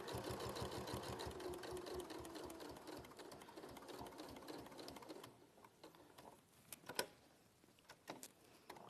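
A sewing machine runs steadily at close range, topstitching an eighth of an inch from the edge with a 3.5 stitch length, whirring continuously for about five seconds before stopping, followed by a few faint clicks and handling sounds.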